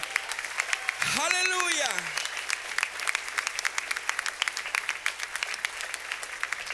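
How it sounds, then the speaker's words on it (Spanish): Strong applause from a church congregation during a Spanish-language worship service, with a voice calling out over steady clapping that carries through the whole stretch. "Una vez más, bien fuerte el aplauso, déselo al Señor."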